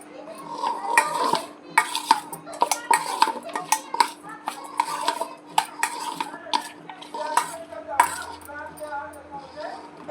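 A spoon scrapes and clinks against a bowl while cucumber salad is mixed at home, with rapid irregular taps close by and someone talking quietly over it.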